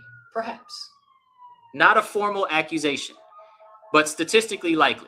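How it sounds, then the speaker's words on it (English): A police siren wails outside, a steady rising-and-falling tone running under someone talking close to the microphone. "Sorry for the sirens"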